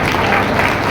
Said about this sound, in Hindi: जोर से प्रभु के लिए ताली बजाइए।